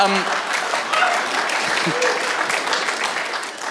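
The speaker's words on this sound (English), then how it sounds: "Oh, you're nice people, you clap." Stand-up comedy audience breaking into warm, sustained applause, a steady wash of many hands clapping at even loudness, with a voice briefly heard near the start.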